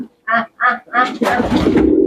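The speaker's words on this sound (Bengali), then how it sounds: "দেখেন কত সুন্দর সুন্দর কবুতর" Domestic pigeons on a rooftop loft give a few close, loud throaty coos in quick succession, the last one blending into a fuller burst of cooing and rustle.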